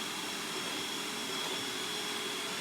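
An iRobot Roomba 981 robot vacuum runs in eco mode indoors, giving a steady, moderate whirring hum with a faint high whine, constant and close with no other sounds.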